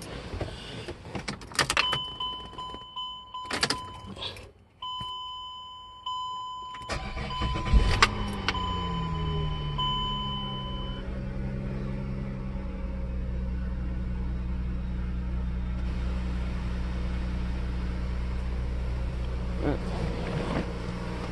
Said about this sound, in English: let's go and start it.